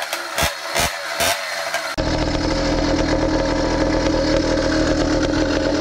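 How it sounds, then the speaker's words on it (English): Two-stroke motorbike engine with stock jetting, an aftermarket pipe and no air filter, running slightly lean, heard close and loud: a few sharp blips, then a steady buzzing idle with a rough, uneven beat. "It is running a little bit lean because I have stock jetting in it with an aftermarket pipe on it and no air filter"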